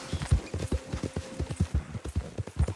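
Horse hooves clip-clop in a steady walking rhythm in the video game Red Dead Redemption 2, at a ranch, close and clear with no speech over them.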